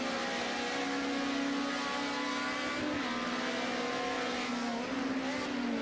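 Race car engine at Laguna Seca heading into the Corkscrew, a steady droning mid-pitched engine note with a slight pitch drop as it slows, moderately faint and continuous.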